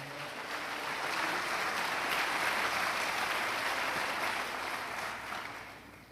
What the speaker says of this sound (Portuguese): Você pode aplaudir ao nome do Senhor.